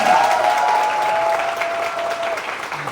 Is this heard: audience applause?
yes